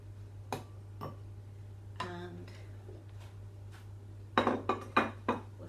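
A metal spoon is scraped clean against a mixing bowl of orange and ginger tray bake batter, giving a few short clinking scrapes, then a quick run of sharper taps and knocks near the end, over a steady low hum.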